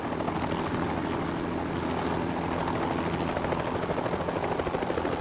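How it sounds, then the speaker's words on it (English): Helicopter flying close to high-voltage power lines, its rotor and engine producing a steady, loud, continuous drone with a fast rhythmic chop throughout, no talking. "The dangerous marriage between helicopters and power lines is made to save money and time."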